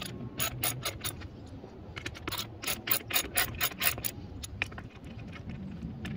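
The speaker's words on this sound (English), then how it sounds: "So we take a ratchet and a 10mm socket, and then we start untightening the screws that are holding down the" A hand ratchet with a 10mm socket loosens seat screws, clicking in quick bursts of sharp pawl ticks. The bursts come close up and fairly quiet, with brief pauses between strokes.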